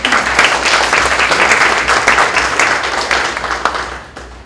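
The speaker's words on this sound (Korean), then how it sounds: "박수로 환영해 주시기 바랍니다." An audience at a Korean e-government council meeting applauds to welcome a speaker, with loud, full clapping that holds steady and then tapers off at the end.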